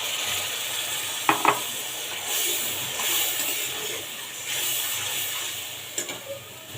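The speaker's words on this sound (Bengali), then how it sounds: "আমি আর একটু পানি দিয়ে মশলাটা কষিয়ে নেব" Masala frying in a pan for a hilsa fish curry with stalks, sizzling softly and steadily while a spoon scrapes and stirs, with a few sharp metallic clinks against the pan.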